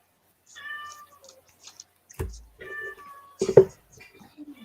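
A cat meows several times indoors, clear drawn-out calls spaced apart, interrupted by a couple of sharp knocks or bumps in between.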